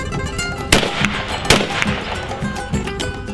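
A 20 gauge shotgun firing a reloaded Fiocchi steel hull: sharp, loud blast transients stand out over a noisy background, with two reports plus fainter knocks.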